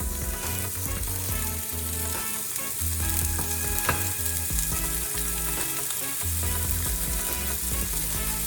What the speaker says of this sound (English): Push it down, make sure everything's getting nice contact on the pan. That way you can get a nice brown sear.